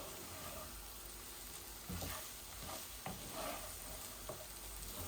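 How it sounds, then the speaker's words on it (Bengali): Spices fry in a pan while being stirred for sweet vermicelli and egg noodles, giving a steady sizzle with periodic scraping strokes of the spoon, close and moderately quiet, with no talking. "আমি আমার এই মশলাগুলা ভালো করে ভাজছি।"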